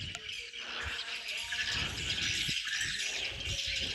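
Swiftlets inside a swiftlet house make a dense, continuous wash of high chirps and twittering, fairly faint, with no talk over it.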